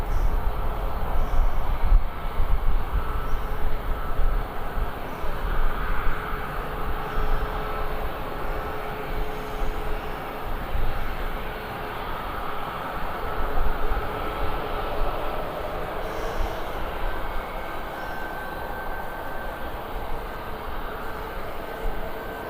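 A departing aircraft at Birmingham airport gives a steady, rumbling jet roar heard from a distance that swells and fades slightly over a long stretch, with no talking.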